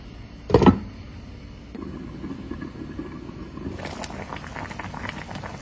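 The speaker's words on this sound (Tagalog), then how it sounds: "kumukulo na siya" A pot of pork hock stew bubbling at a low simmer, with a brief clank near the start and the bubbling growing livelier toward the end.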